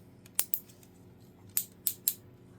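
Sharp plastic clicks as a fin piece of a Mazinkaiser Carbotix toy snaps into its port, five crisp close snaps in two quick groups, alone with no talk.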